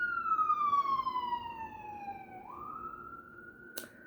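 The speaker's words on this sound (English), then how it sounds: "It was an ambulance or a fire truck or something going by." An ambulance or fire truck siren wails past at a distance, its pitch sliding down and then climbing back up in one long sweep, followed by a brief sharp knock.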